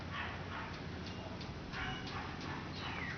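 A dog makes short, soft whimpering yips in a series of quick bursts, close by and fairly quiet.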